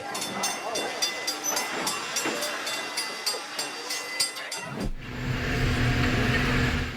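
A train approaching a level crossing with warning lights on and barriers down: a rhythmic clatter with bell-like tones gives way to a loud, broad rushing roar as the train passes close by.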